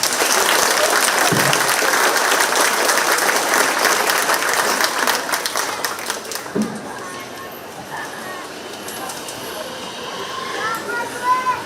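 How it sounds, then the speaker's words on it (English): Crowd applause for the county fair queen candidates at the Shelby County Fair, loud and dense at first, then thinning and fading into scattered claps and murmuring voices. "Please give them a round of applause"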